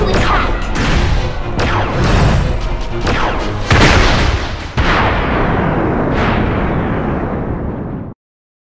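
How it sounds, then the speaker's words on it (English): Incoming enemy fire in the video game Kid Icarus: Uprising: loud, dense volleys of blasts and explosive booms, several sharp hits rising out of the roar, before everything cuts off abruptly. "We've got incoming fire."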